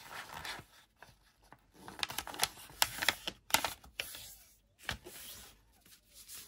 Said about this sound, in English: now we open it and then we fold this side again here